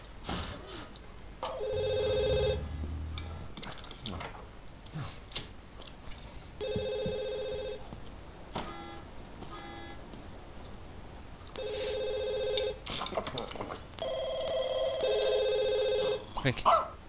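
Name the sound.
telephone ringing in The Sims 2 Seasons video game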